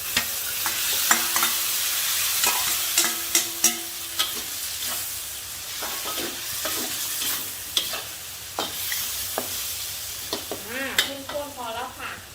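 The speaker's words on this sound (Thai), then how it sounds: "ใส่ตัวกระดูกหมูค่ะ ลงไปเลยค่ะ" Pork ribs frying with shrimp paste in a pan, a steady close sizzle broken by scrapes and clacks of a utensil stirring, with occasional sharper knocks against the pan.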